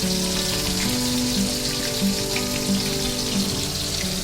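Pork belly with the skin removed frying in hot oil over medium-high heat, giving a steady dense crackling sizzle with no talk over it.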